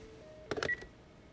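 A short burst of electronic phone beeps and tones from a dead phone being dialed in The Last of Us Part I, a few quick clustered blips lasting under half a second over a quiet background.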